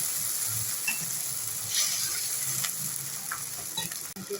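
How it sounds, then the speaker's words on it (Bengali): Tamarind sauce tempered with mustard seeds and five-spice boils in a pan, giving a steady, close hissing bubble with faint clicks and stirring scrapes and no voices. "এবার এটাকে আমি টকবক করে ফুটতে ছেড়ে দিচ্ছি।"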